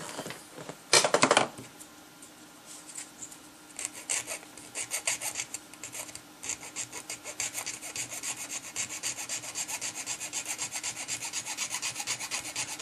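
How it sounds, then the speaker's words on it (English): Hand filing smooths a plastic part of a Revell snap-kit Tie fighter model at its attachment point, opening with a sharp burst of scraping, then settling into steady, rapid back-and-forth rasping strokes, close and fairly loud with no voices. "Going at it with a file instead of trimming."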